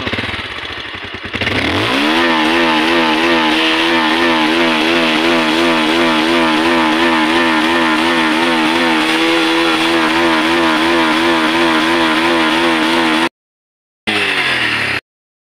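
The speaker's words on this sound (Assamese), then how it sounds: "বাইকৰ চাউণ্ডটো চেক কৰক, চাউণ্ডটো দিওঁ।" A Bajaj Avenger 160 motorcycle with its stock DB killer still fitted runs close by. After a brief start-up it settles into a loud, steady, throbbing idle, then cuts out for a moment and returns near the end.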